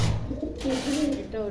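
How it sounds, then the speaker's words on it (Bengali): Pigeons coo in soft, rolling calls at a pigeon farm where breeding pairs sit on eggs, the murmuring repeating steadily through the moment with a faint background rustle. "প্রত্যেকটা কবুতরের জোড়াই ডিম নিয়ে বসে আছে"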